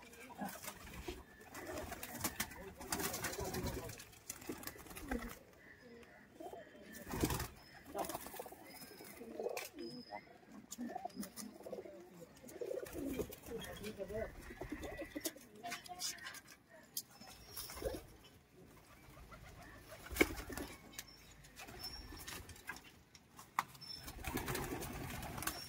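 Madrasi pigeons at a loft keep up a low, steady cooing with some wing flaps nearby, mixed with intermittent speech from a man.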